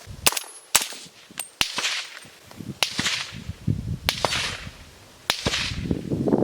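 A suppressed 300 Blackout PSA JAKL fires subsonic rounds from MFT magazines, giving seven sharp, close cracks at uneven intervals with faint rustling and clatter between them.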